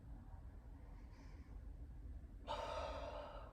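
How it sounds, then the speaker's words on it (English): Slow, soft breathing during seated yoga, quiet and close, ending with a longer, stronger breath that stands out clearly against a low background hiss. "Breathing."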